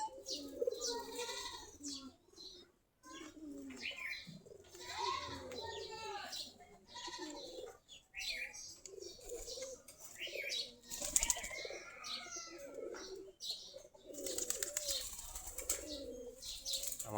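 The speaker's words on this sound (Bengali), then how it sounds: "আমাদের কবুতরগুলো বিকালবেলা খোপের কাছে চলে আসছে" Flock of local Giribaz pigeons gathering near their loft in the late afternoon, with bursts of wing flapping and soft cooing, children's voices and other chatter mixed in, fairly faint overall.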